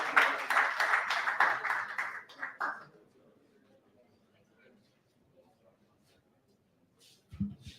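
Applause and clapping from a crowd for about three seconds, then fading into near silence with faint room noise.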